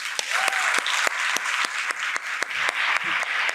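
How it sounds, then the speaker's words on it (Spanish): An audience applauds to welcome speaker Maritere Lee to the stage for her masterclass, with strong, sustained clapping and sharp individual claps standing out throughout. "recibamos por favor con un fuerte aplauso a Maritere Lee"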